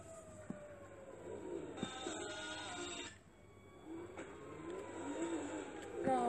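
Video-game car engine revving in GTA 5, rising whines and surging tones amid game sound effects, moderately loud with no voices.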